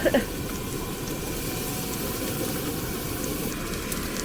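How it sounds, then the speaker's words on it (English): Eggs fry in a pan at a campsite, giving a steady close crackle and hiss that runs evenly throughout after a brief knock at the start. "The eggs are crackling."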